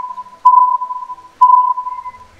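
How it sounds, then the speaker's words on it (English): An egg-finder reader in a virtual-world Easter egg hunt game beeps with a clear electronic tone: two longer, louder beeps about a second apart over a fainter continuous beep, heard alone. "There is also a beeping sound that keeps getting faster the closer you are"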